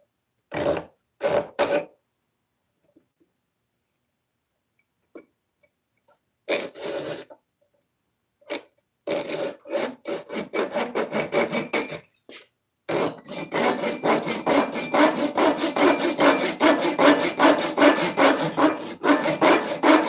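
A hand saw rips through wood in a forge workshop: a few short separate strokes at first, then a long run of fast, rhythmic rasping back-and-forth strokes, close and loud with no talking.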